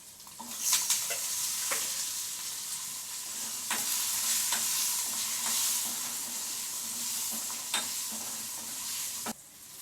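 Small onions sautéing with cumin in a hot pan: a continuous close sizzle punctuated by repeated sharp spoon scrapes and taps against the pan, no talking.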